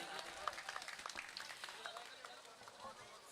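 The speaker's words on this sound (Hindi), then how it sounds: "ज़रा तालियां बजा के बता दीजिएगा" Scattered applause rises from the audience at a mushaira poetry gathering, faint, uneven claps fading out over a few seconds while speech and crowd murmur carry on.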